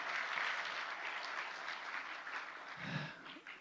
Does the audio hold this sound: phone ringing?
no